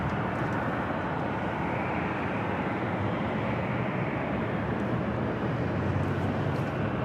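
Delta Airlines Boeing 737-900ER jet arriving from Detroit at Los Angeles LAX, a steady, loud broadband engine roar that holds evenly throughout with no voices.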